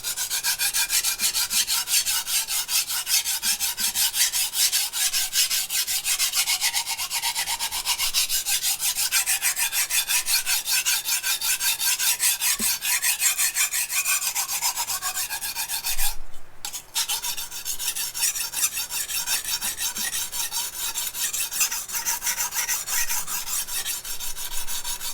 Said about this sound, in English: I'm basically just going back and forth every maybe 20 strokes so that I can get an even grind on both sides